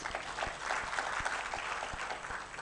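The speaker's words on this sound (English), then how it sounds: "Let's give him a better applause." Audience applause at a county health executive induction session: faint, thin clapping from a small crowd, with scattered sharp claps repeating at an uneven rhythm across a short stretch.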